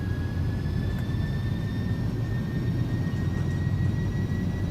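Engines of an Airbus A300 at takeoff power in X-Plane 11 give a loud, steady roar with a thin, high whine that rises slightly and holds throughout.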